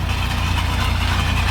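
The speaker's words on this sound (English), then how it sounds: "Hey, look at that tractor." An old tractor engine idles at the Southeast Old Threshers Reunion farm equipment show, a loud, steady, close rumble with no talk over it.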